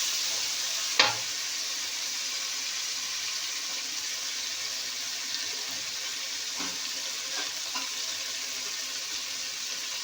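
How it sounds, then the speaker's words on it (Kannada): Coriander leaves frying and being stirred in a pan for rice bath give a faint, steady sizzle throughout, with one sharp tap near the start. "ಕೊತ್ತಂಬರಿ ಸೊಪ್ಪು ಹಾಕ್ಬಿಟ್ಟು ಚೆನ್ನಾಗಿ ಹುರ್ಕೋಬೇಕು."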